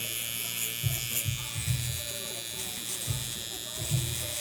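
A tattoo machine running at 8 volts gives a steady, close electric buzz with short rhythmic pulses as the needle works, with a person talking over it.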